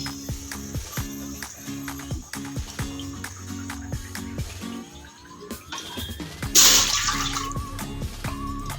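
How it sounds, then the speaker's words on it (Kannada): Three cups of water poured into a bowl, a short splashing gush near the end after a run of clinks and taps from the kitchen. "ಇದರಲ್ಲಿ ಮೂರು ಕಪ್ಪು ನೀರು ಹಾಕೊಳ್ತಾ ಇದ್ದೀನಿ"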